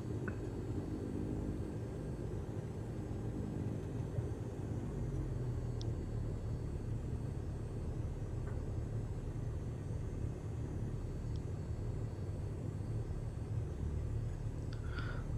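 A Van's RV-7 light aircraft taxis onto the runway in Flight Simulator 2020, giving a steady low engine drone and rumble throughout, with faint brief clicks on top.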